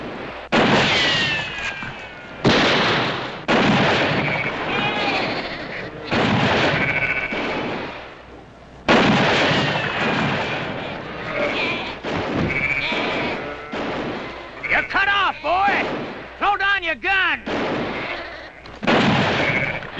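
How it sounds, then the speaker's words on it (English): Gunfire in a Western shootout around a wagon, loud shots and thumps echoing repeatedly alongside bleating sheep and dramatic orchestral music, with no talk. "Get Drummond, he's behind the wagon. I can't get a shot at him from here."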